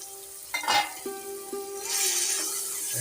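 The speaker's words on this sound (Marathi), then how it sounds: "मटण पण चांगला ना फ्राय करूया आपण" Mutton frying in a pan for a spicy Malvani mutton sukka, a steady close sizzle with a few stirring scrapes near the start and a hiss that grows louder toward the end.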